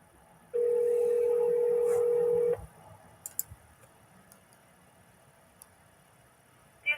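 A telephone on speakerphone sounds a single sustained electronic tone for about two seconds while a number is dialed, then a few faint clicks and ticks in a quiet room.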